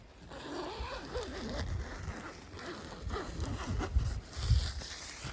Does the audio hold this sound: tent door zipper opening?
yes